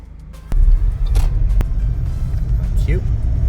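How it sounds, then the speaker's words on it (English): A car pulls away during a driving lesson in Bradford, its low engine rumble swelling loud and close from inside the cabin after a quieter start, with occasional clicks and a faint voice. "When it's safe to do so, drive on please."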